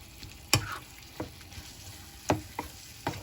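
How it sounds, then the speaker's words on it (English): Vegetables frying in a pan for creamy coconut curry chicken, a soft sizzle under several sharp scraping knocks of a spoon stirring and breaking them up, spaced irregularly and close by. "Break all these vegetables up and let them cook."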